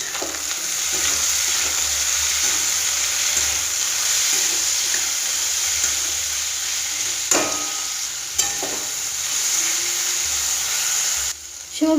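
Mixed vegetables with yardlong bean pieces frying in oil in a pan, a loud continuous sizzle heard up close, with a couple of sharp utensil knocks near the end.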